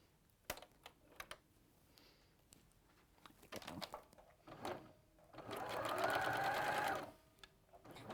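A sewing machine runs for about two seconds, stitching a quarter-inch seam in patchwork fabric for a storage bag, with a rapid even whir close by. Scattered handling clicks and taps come before and after.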